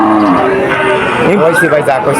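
Cow mooing at the Udaypur cattle market in Bagerhat, a loud close bellow with drawn-out wavering tone, mixed with talk and market commotion.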